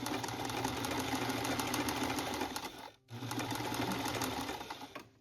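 A sewing machine stitches a quilt block in fast, even mechanical bursts, whirring steadily with a brief pause near the middle before resuming, close and moderately quiet.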